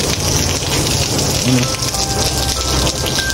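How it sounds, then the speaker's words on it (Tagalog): Steady, dense rain pours down, a constant hiss of drops hitting surfaces nearby, with a brief faint tone partway through. "Grabe ang ulan po"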